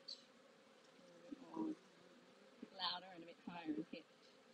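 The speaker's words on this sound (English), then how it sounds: "Mira, the tone of the bees, if I get right down here, you can hear that they're just getting a little bit annoyed with being open so long" Honey bees in an open Flow Hive give off a steady, close-up drone that rises into brief louder swells. A person speaks over the buzzing now and then.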